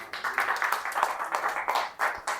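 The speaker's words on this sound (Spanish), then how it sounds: "Le da un aplauso, Señor Jesucristo." A small group at a church gathering claps in a brisk, uneven rhythm, a short burst of applause that stops and starts again.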